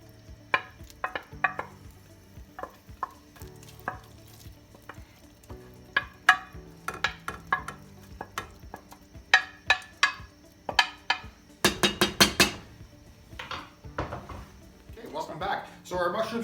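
Mushrooms tipped into a pot of mushroom soup and stirred, with repeated scraping and clinking of a utensil against the pot in uneven bursts, close and clear, while a person talks between the strokes.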